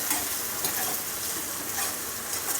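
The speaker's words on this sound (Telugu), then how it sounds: "మీడియం ఫ్లేమ్లోనే వేయించుకోవాలి." Onions, curry leaves and a pinch of asafoetida fry in a pan over a medium flame, giving a steady, close, fairly loud sizzle that hisses without a break throughout.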